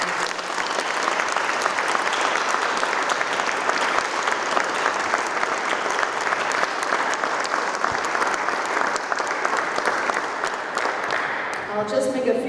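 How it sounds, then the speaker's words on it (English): Audience applause at a medal ceremony at the U.S. Capitol honoring animals in war and peace, sustained, dense clapping from a large indoor crowd, steady and loud throughout before tapering at the end. "Can we give a round of applause to these wonderful leaders?"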